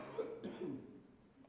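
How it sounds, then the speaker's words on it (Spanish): A pastor coughs once or twice, short and muffled, a few quick throaty bursts fairly close but quiet, then the room settles into near silence. "Perdón, no se me quita la tos."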